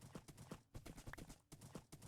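Minecraft horse hooves clip-clop in a quick, steady rhythm, each hoof strike crisp and close, continuing throughout at a brisk trot.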